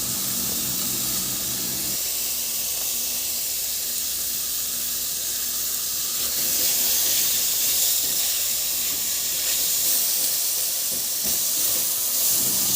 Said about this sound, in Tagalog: Igisa lang din ng mabuti yung kamatis hanggang sa maluto.